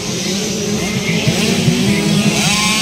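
Small 50cc racing motorcycle engines buzzing loudly and continuously through a race heat, in a crowd-heavy 65cc category final, with a steady high drone and faint shouting underneath.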